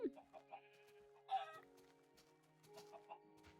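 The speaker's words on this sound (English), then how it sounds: "Oh! Chicken!" Chickens cluck in the Minecraft video game, with quiet, short game-animal calls scattered across a soft background of in-game sounds.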